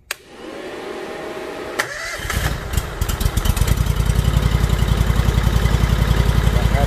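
An Oggun tractor motor is started with the key at 25% throttle, cranking briefly before catching into a loud, steady, rhythmic idle up close with no speech.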